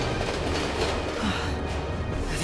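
A cartoon train rumbles steadily past at close range for a couple of seconds, with a continuous rolling rail noise and faint clickety-clack.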